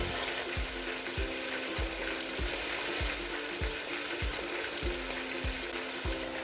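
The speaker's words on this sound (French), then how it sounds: "Alors, nous allons commencer à griller la viande." Meat hitting hot vegetable and olive oil in a pan for a couscous sauce sizzles steadily and loudly, with a regular series of soft low thumps running underneath throughout.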